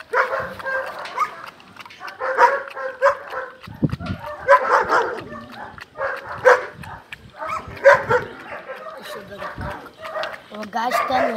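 A small dog yips and barks in short repeated bursts, mixed in with people talking nearby.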